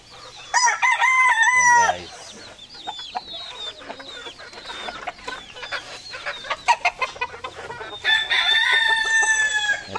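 Backyard chickens cluck and a rooster crows loudly and close, with a long crow at the start and another near the end, amid busy clucking in between.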